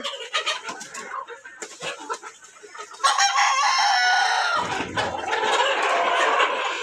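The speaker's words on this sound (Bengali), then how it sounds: "এখানে 300টা মুরগি বেশি আছে।" Egyptian Fayoumi chickens at a farm flock of over 300 birds, clucking and squawking in busy overlapping bursts, then a loud rooster crow stretching across the second half, close and clear with no talking.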